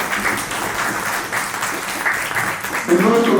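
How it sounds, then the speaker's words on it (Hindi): Loud applause from an audience at an annual literary award ceremony, a sustained, dense burst of clapping that swells near the end, with a voice briefly audible underneath. "एक बार जोरदार तालियां"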